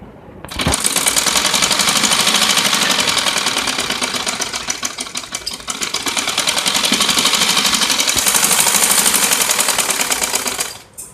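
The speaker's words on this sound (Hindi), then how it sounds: "अब इन कुंदियों को मैं इन पोंचों के साथ सिलाई करूंगी।" Sewing machine stitching salwar border pieces, running in a loud, steady, rapid mechanical whir that starts abruptly, holds continuously for about ten seconds with slight speed dips, and stops sharply, with no talking.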